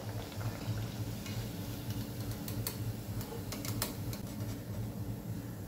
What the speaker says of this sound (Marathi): अशाच प्रकारे सर्व वड्या मी तळून घेते